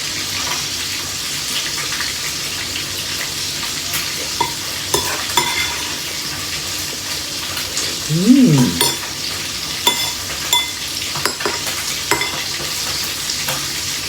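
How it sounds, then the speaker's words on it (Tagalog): Tamban fish frying in a pan, a dense continuous sizzle and crackle with scattered pops and a few clinks, steady and close throughout. "Nagprito po kong tamban."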